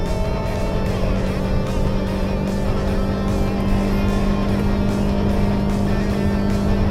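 Toyota Innova Zenix 2.0 hybrid car accelerating in gear D2, a steady, loud engine and road drone heard close from inside the cabin, with no talking.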